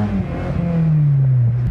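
A Honda S2000 with a freshly rebuilt cooling system pulls onto the highway. The engine note climbs and drones steadily through a short, loud acceleration heard from inside the car.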